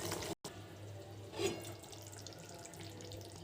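Water runs into a pan of potato and pointed gourd curry, a soft faint trickle with a brief splash near the middle, alone without talk.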